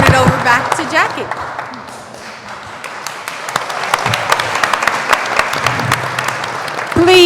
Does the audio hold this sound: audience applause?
yes